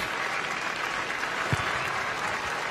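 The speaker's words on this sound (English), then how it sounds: "taking the applause as he goes off in his record-breaking cap" At an Ireland versus Scotland rugby match, the stadium crowd applauds steadily as a player leaves the pitch in his record-breaking cap, a continuous distant wash of clapping.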